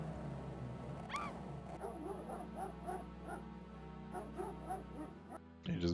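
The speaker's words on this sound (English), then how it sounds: "He just barks a few too many times." A dog in the King's Quest video game barks repeatedly in short, evenly spaced yips over a steady low game-music drone, ending in a brief louder burst.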